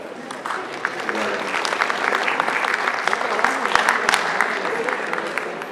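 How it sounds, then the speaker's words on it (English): Sustained audience applause at the close of a university network conference lecture, dense steady clapping from a crowd that stays loud throughout, with faint voices mixed underneath. "Everybody, please, another clap."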